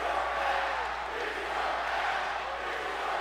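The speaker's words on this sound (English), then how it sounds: "The crowd chanting for a restart here." A large wrestling crowd chants and roars without a break, a dense, loud wash of voices filling the arena.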